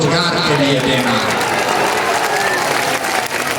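A large rally crowd at a political meeting on a school ground claps and murmurs in a steady, dense wash of applause, close and loud, with a speaker's voice over it.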